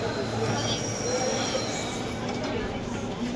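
A metro train rumbles past in a dense, continuous roar with faint wheel squeal, loud and close, with crowd chatter mixed in.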